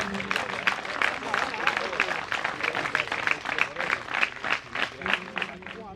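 Applause at a school ceremony in Solaiya, with many hands clapping steadily and densely through the whole stretch, loud and close, joined by some crowd voices in the background.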